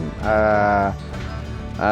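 Sheep on a farm raising imported breeds such as Awasi and Chios bleat loudly and close, one long wavering bleat followed by a pause and the start of another.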